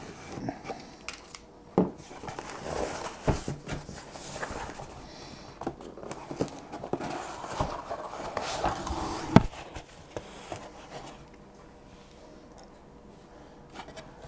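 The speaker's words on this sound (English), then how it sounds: "So let's cut them open, take a look, see what we get." Numbered security seals on boxes of Spidertrax TJ to JK wheel adapters are cut open in a series of snips, rustles and plastic clicks, scattered irregular handling sounds at close range with no talking.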